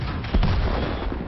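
Tank cannon fire in World of Tanks, during a match with a Japanese STB-1 tier 10 medium tank: one loud, close booming shot with a broad low rumble that tails off over about a second.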